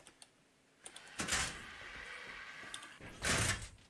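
In the video game The Island, a door slides open with a rushing whoosh, followed by a second similar burst, faint clicks around them and no talk.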